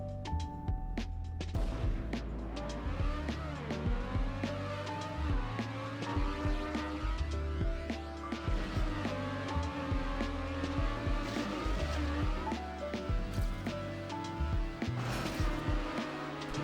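Engines of small race cars in a miniature racing video game, a steady droning, warbling whine that rises and falls with the driving for the whole stretch, accompanied by game music.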